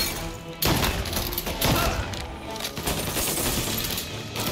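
Dense, continuous machine gun fire in Mafia: Definitive Edition, loud rapid bursts layered with booms and thuds that fill the whole stretch without pause, with no voices.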